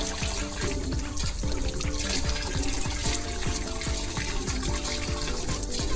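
Tap water running into a vessel for cooking dal in a village home in Bihar, a continuous close splashing trickle with small rhythmic gurgles, moderately quiet and alone.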